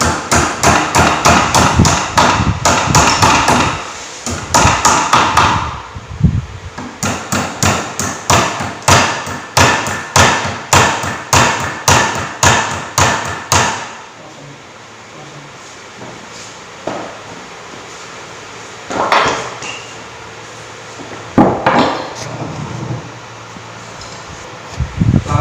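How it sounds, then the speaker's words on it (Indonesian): Rapid loud metallic hammer blows ring out during a tie rod overhaul on a vehicle steering system, coming in fast strings of strikes, then a quieter pause with a few scattered knocks and handling noises. "Untuk palu saja ya sudah cukup."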